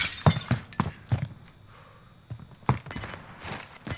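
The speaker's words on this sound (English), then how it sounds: "I heard glass break." Glass shatters in the video game Warzone, with several sharp breaking crashes and thunks in quick succession, close and loud, then a quieter pause and more impacts.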